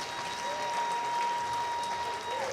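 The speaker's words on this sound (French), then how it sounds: "Les deux boxeurs méritent assurément une belle main d'applaudissement." Boxing crowd applauding after a fight, a steady wash of clapping from a large audience, fairly distant and even throughout, with a faint sustained tone running underneath.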